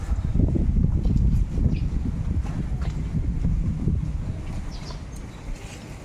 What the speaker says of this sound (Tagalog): Oh, mahangin.